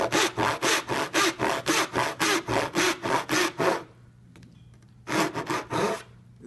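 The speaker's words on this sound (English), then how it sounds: "let the weight of that saw carry itself out" A hand saw cuts through wood at a woodworkers' club meeting, about a dozen steady rhythmic strokes, close and loud, followed by a short pause and then a few more strokes.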